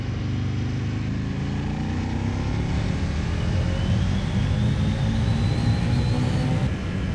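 An Aprilia Tuono 1000 motorcycle engine pulls under throttle, a steady, continuous roar with a rising whine that climbs gradually, heard from the rider's position with no talking.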